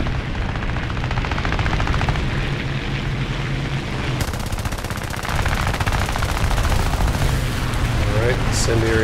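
Sustained rapid machine-gun fire from a P-26 fighter's incendiary rounds in War Thunder air combat, a dense loud rattle running unbroken for the whole stretch with engine drone beneath and a brief burst of bright impacts near the end.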